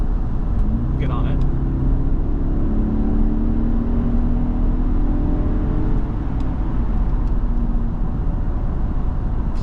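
A 2010 Jaguar XF with a 4.2 liter V8 pulls away under acceleration, its engine note rising steadily as a loud, even drone with road and cabin noise, while someone talks over it.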